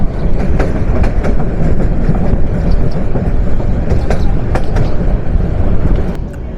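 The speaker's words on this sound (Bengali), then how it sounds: "আমাদের ট্রেন প্রবেশ করতে চলেছে টঙ্গী রেলওয়ে জাংশনে।" A commuter train rumbles loudly and steadily up close as it enters a railway junction, with rhythmic clickety-clack of wheels over rail joints and occasional metallic clanks.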